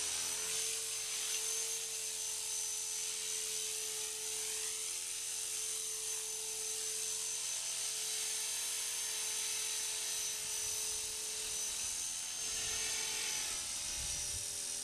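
A Blade 450 3D RC helicopter spins up in idle up mode: a steady high rotor and motor whine with a rising tonal hum, close and continuous for the whole stretch with no talking.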